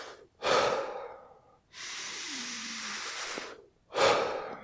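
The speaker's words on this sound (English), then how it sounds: "We will be taking 30 or so deep breaths. The inhalation is very full, starting in the lower abdomen, filling completely" A Wim Hof style deep breath: one full inhale filling from the lower abdomen, then a quick release. The breathing is close and audible, with airy exhales bracketing a long drawn-in breath, and no talking.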